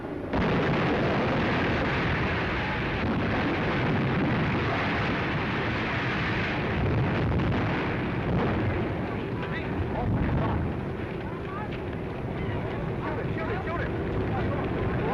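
The 1937 Hindenburg hydrogen airship explosion as it was brought to its mooring, a dense, continuous roaring blast of fire that stays loud and steady for the whole stretch, with no clear breaks.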